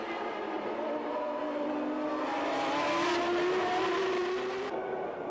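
A 1989 Formula One car screams past on a slippery circuit, its engine note climbing steadily as it accelerates, loud and continuous, then cutting off abruptly.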